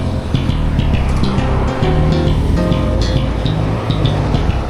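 Cars and motorbikes rush past one after another on a 50 kph road beside a pedestrian lane, their engine and tyre noise rising and falling close by. Nobody speaks.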